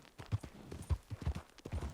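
A horse's hooves clip-clop in the video game Red Dead Online, quiet, even steps in a steady trotting rhythm, about eight footfalls with nothing else over them.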